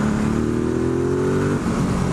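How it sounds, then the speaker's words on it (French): Ducati Multistrada 1260S motorcycle accelerating hard in third gear from about 4000 rpm, a loud close engine note rising steadily in pitch before easing off near the end, with no speech. "quand on fait une reprise de gaz en troisième à 4000 tours et qu'on accélère franchement"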